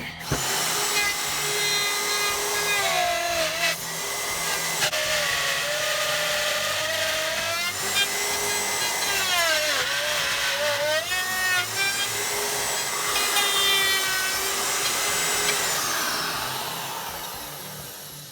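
A high-pitched power tool whines continuously while its bit takes a big cut into wood for a homemade electric guitar, tearing out, the pitch dipping and rising under load with grinding and rasping throughout.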